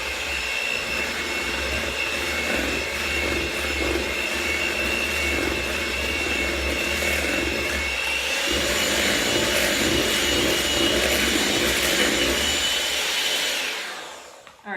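An electric mixer beating flour into brownie batter, a loud continuous whirring drone that holds steady, shifts slightly in pitch midway, and then winds down at the end.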